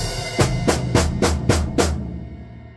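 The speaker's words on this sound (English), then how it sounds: "try and start soft with really low sticks, low down. And as you get through the line, lifting that stick height and hitting a bit harder" Drum hit six times in steady succession, building from soft low-stick strokes to harder, louder hits in a short crescendo, heard alone before a brief ringing decay.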